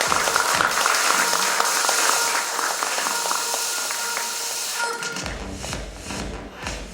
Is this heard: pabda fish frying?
no